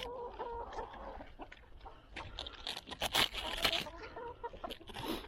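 Farmyard chickens cluck steadily and close up as they peck at scattered feed and cabbage, with overlapping calls and scratching and no talk.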